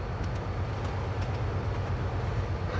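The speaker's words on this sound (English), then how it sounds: "we got the H train passing over" An H subway train passes overhead on an elevated section of the Bayport Branch during a snowy winter night, a steady low rumbling roar with faint rail clatter that holds constant and moderately loud throughout, with no talking.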